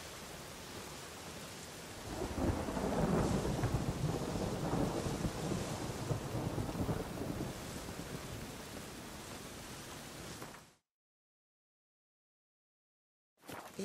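Rain and rolling thunder in The Witcher 3, a dense steady downpour with a deep rumble swelling after a couple of seconds, then abruptly dropping to silence.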